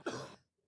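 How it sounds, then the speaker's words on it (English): A single short, close cough bursts out and fades quickly into near silence. "That was my cough."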